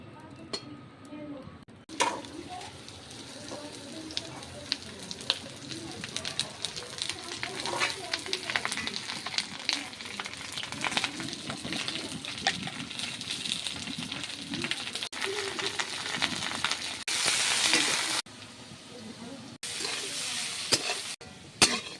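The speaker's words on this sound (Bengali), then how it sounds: "কড়াই তেল দিয়ে দিয়েছি, আলুগুলো ভেজে নেব।" Potatoes frying in oil in a wok for a papaya and potato curry, a steady sizzle running throughout with some clattering and a voice talking over it.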